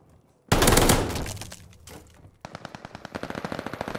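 Gunfire at the hardpoint on the Bocage map in Call of Duty: Vanguard, a loud close blast followed by a rapid steady burst of automatic shots, each crack sharp and evenly spaced, with almost no talking.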